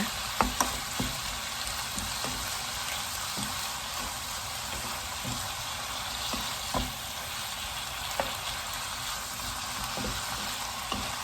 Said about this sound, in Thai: ผัดจนแครอทสุกอะค่ะ